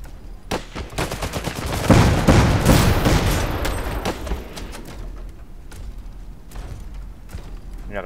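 Mortar mech gunfire in the Iron Harvest strategy game, a dense volley of booming shots and crackling bursts that swells in the middle and then thins to scattered reports under a low battlefield rumble.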